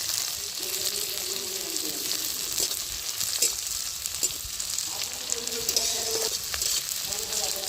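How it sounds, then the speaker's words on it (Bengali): Chopped onions sizzle and hiss in a hot pan for a bottle gourd dish, a steady close frying crackle with occasional stirring scrapes throughout. "আমি কুটে রাখা পেঁয়াজগুলো দিয়ে দিচ্ছি।"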